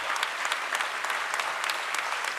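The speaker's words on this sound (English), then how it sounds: "Nayan Mehta and his team need huge applause" An audience at a stock exchange closing bell ceremony applauds continuously, a dense wash of clapping heard from a short distance.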